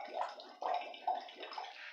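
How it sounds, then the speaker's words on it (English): Air blown through a thin straw into liquid makes a few short, close bursts of bubbling, with gurgling pulses separated by brief pauses. "but we also blow bubbles like this"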